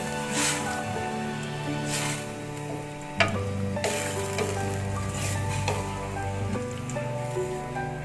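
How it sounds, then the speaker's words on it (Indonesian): A pot of coconut milk for beef gulai bubbles and gently sizzles at a steady, close level, with a few soft clinks; music plays faintly underneath. "kita akan tunggu"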